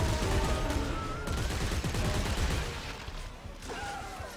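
Gunfire in Dead Space 3, a fast stream of shots crackling over a rumbling background, loud at first and easing off toward the end, with a brief voice-like sound near the close.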